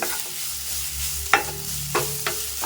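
Grated ash gourd (pumpkin), squeezed of its juice, sautéing in hot ghee in a pan: a steady soft sizzle with a few sharp scrapes of a spoon stirring through it, close and alone.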